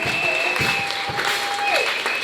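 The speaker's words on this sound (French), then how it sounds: "Est-ce qu'on peut acclamer très fort pour le Seigneur?" Congregation at a church worship service applauding loudly for the Lord: a dense, steady wash of clapping filling the room, with a sustained organ or keyboard tone held underneath throughout.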